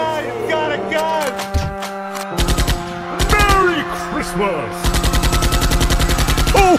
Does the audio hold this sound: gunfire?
yes